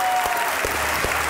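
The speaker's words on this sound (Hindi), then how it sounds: "तालियां बजती रहनी चाहिए।" A television talk show studio audience applauds a sports journalist guest with a steady, close wash of clapping and a few sharper individual claps.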